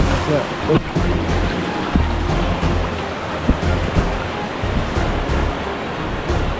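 A river rushes steadily over rocks close by in the wild, a constant broad watery roar with occasional splashes and knocks from footsteps on stones.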